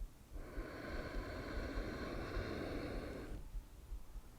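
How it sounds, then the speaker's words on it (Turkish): A slow, deep inhalation taken during a guided breathing exercise, a steady airy rush lasting about three seconds before it stops, close and quiet with no talking. "Bir de şimdi derin bir nefes alalım."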